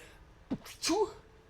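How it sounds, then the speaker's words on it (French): A short sneeze by a player during a Five Nights at Freddy's 4 session, a quick sharp intake followed by a burst, faint and close over a quiet background. "J'ai éternué."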